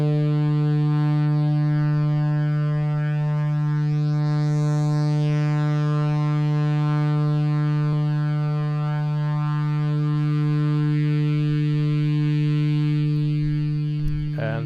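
Synthesizer tone shaped by Trautonium formant filters: a steady, loud drone with a strong low fundamental and dense stacked harmonics, holding almost unchanged for the whole stretch with only slight shifts in the upper overtones.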